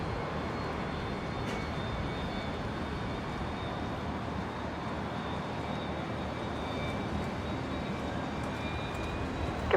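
A fixed-wing airliner rumbles steadily on approach to land on runway 19 right at Brisbane International Airport, a broad continuous roar heard from a distance without voices.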